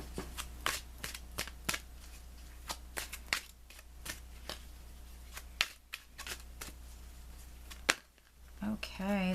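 Oracle cards being shuffled by hand, a quiet, close series of crisp riffling snaps and soft flutters repeating at an irregular pace, with a voice briefly at the end.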